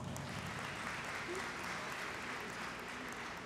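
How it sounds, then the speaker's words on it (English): Faint, distant applause from the audience at a 2019 Dr. Martin Luther King Jr. High School graduation ceremony, a continuous wash of clapping heard from afar. "Please welcome her with a warm round of applause."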